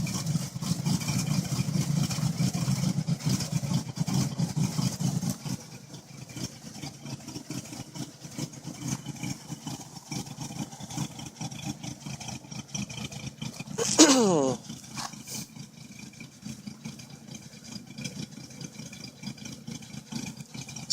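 A Buick Electra's 4.1 liter carbureted V6 idles steadily with a low rumble, louder at first and then quieter, with a brief sharp rising squeal near the end.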